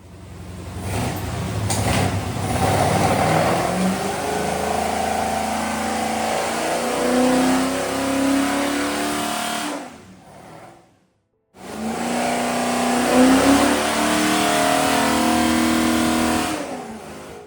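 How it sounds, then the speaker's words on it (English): A 1980s Aston Martin V8 Vantage engine with Weber carburettors revs hard and loud, rising and falling in pitch, cuts out briefly to near silence, then roars back up again. "Eight cylinders firing, Webers drawing deep, an 80s Vantage engine, roused from sleep."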